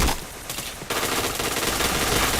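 Rapid automatic gunfire in the PointBlank shooting game, a dense loud burst that sharpens partway through and keeps rattling without pause, with no voices over it.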